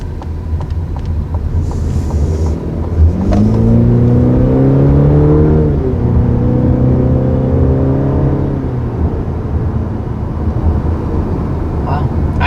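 A 2020 Cadillac CT4, a small sedan, accelerating. The engine note rises and sweeps upward through two pulls, steady and close, over constant road and cabin rumble, then settles back to a cruising drone.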